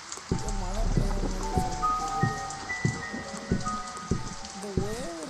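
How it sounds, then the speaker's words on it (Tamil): Steady rain hisses in the horror video game Slendrina, a constant wash of falling water under someone talking throughout. "மழை பெய்யுதுன்னு நினைக்கிறேன்."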